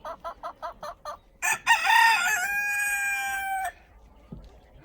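A farm rooster clucks in a quick series of short calls, then gives one loud, long crow that trails off into quiet.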